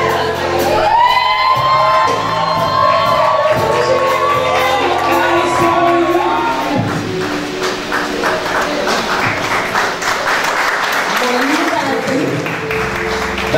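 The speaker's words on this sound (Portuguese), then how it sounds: "Uma salva de palmas" Wedding guests applaud and cheer with whoops and shouts right after a couple is pronounced married, the clapping mixed with crowd voices and talk throughout, music-like tones underneath early on.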